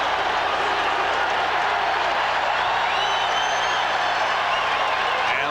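A packed football stadium crowd roars and cheers during the 1989 AFC Wild Card game between Pittsburgh and Houston, a dense, loud, continuous wash of cheering and clapping with no pauses.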